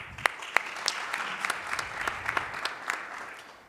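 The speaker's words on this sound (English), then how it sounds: "I want to just give a round of applause to Dr. Mahmoud Zreik" Applause fills the hall at a scientific cardiology conference, starting with a few crisp, loud claps and settling into steady, moderately dense clapping that fades gently toward the end.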